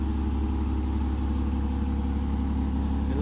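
A Porsche Boxster 987 with a 2.7-litre flat-six and Tiptronic automatic gearbox idles steadily nearby, a continuous low, even rumble with no revving throughout.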